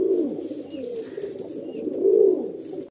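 Madrasi or Giribaj pigeons coo in a loft, low rolling calls rising and falling across the whole stretch, swelling loudest near the end, with no voices.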